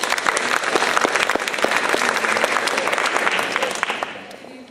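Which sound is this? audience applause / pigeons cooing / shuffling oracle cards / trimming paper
audience applause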